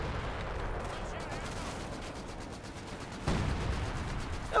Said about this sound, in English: MG is well set up to kind of guard this area. Opening fire on the Panzer Grenadiers.